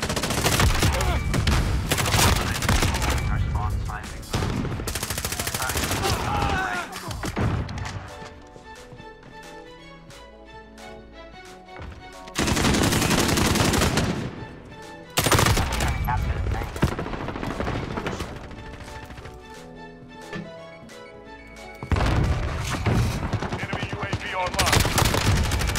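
Heavy gunfire in Call of Duty: Modern Warfare multiplayer on PC, with loud sustained bursts of rapid shots broken by quieter gaps, including a double-barrel shotgun and an RPG impact, and some talk in between.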